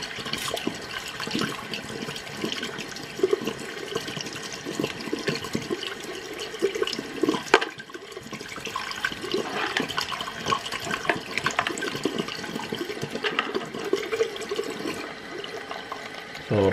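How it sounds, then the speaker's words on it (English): Water pours from a tap into a container for denture solution, a continuous close splashing and gurgling flow lasting the whole stretch with a brief dip midway. "Fill up with some water."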